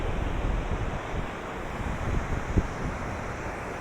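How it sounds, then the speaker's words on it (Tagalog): Waves roll and wash continuously along a wide beach in Zambales, the steady surf mixed with blustery wind buffeting the microphone, with no voices. "napakalawak po ng beach na nato"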